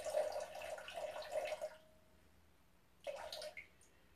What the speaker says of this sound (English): Can you hear the water from there?